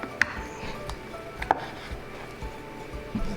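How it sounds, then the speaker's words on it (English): Knife chopping through a fish bone to open the belly while cleaning a catch offshore: a few sharp, separate knocks of blade hitting bone on a board, spaced irregularly, close and fairly faint. "So I kind of want to cut through that to get access to the belly"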